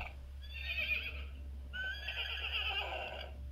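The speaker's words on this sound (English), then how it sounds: "He is the only horse that I have that makes noise and that can go like this, like move his head." A toy horse with a bridle gives two electronic neighs when its head is pushed down, each whinny lasting about a second, clear and close over a faint steady hum.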